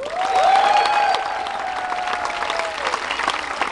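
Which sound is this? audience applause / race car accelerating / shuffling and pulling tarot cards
audience applause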